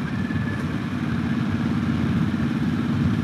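A Harley-Davidson Sportster S motorcycle engine runs with a steady, low, rumbling idle, close and constant with no talk over it.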